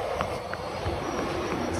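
A train rumbles steadily past close by near Scarborough Junction, a continuous loud roar with a faint high metallic whine above it.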